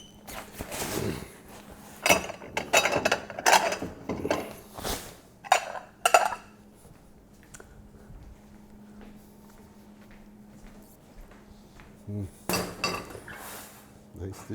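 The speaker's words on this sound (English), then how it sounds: "Okay, let me get a dish." Serving dishes and cutlery clink and clatter in a home kitchen during shrimp and grits preparation, irregular bursts of close clinks separated by quieter stretches, with occasional speech.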